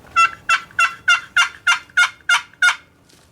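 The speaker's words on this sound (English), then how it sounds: "I carry 2 box calls." A wooden turkey box call is played in a run of about nine evenly spaced, raspy yelps, clear and close, each note a sharp, scratchy squawk.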